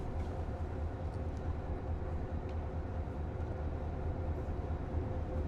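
A Metrolink commuter train on the San Bernardino Line in Train Sim World 5 gives a steady low rumble with faint rail clatter, constant and moderately near throughout, with no talk.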